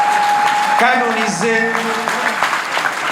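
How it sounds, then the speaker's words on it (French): A congregation applauds during the Don Bosco feast at the Regina Mundi chapel in Lubumbashi. Sustained clapping rolls on under a voice speaking over it. "Applaudissons pour le premier bienheureux"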